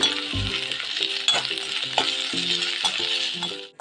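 Raw plantain mixed with ginger paste fries in a pan, a steady close sizzle with intermittent stirring scrapes and light rattles throughout, no voices.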